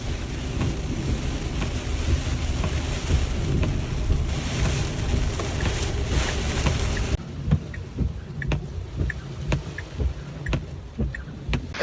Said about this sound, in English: Uh-oh, the rain has started and I'm seeing lightning. Yeah, here comes the rain.